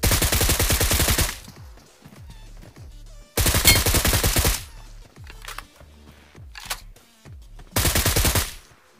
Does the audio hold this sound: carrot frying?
no